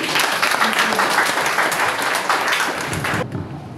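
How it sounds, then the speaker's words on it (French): Dense audience applause at a Bahá'í youth conference in northern Cameroon, a loud steady wash of many hands clapping that cuts off abruptly near the end, leaving faint room noise. "Est-ce qu'on peut applaudir pour la vie?"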